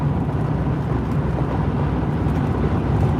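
A 2017 Mercedes G 63 wagon cruising at speed, its steady engine drone blended with heavy road and wind roar, loud and continuous from inside the cabin.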